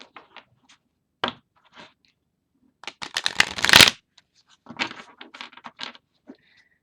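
Close card shuffling in several bursts, with one loud riffle in the middle, stiff cards snapping and scattered handling taps between.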